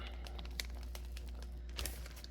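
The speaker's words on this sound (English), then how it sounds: "We're going to zip this up." A plastic zip bag holding breaded chicken nuggets is sealed shut, giving a quick run of crinkly plastic clicks and rustles, close and fairly quiet, with no talking.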